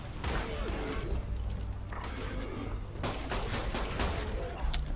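Gunfire in the video game ARK: Survival Evolved, rapid repeated shots in bursts at close range, loud throughout, with a brief voice underneath.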